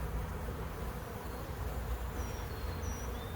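Dense swarm of honeybees humming at an open beehive crowded with bees, a continuous close buzzing drone with no talking.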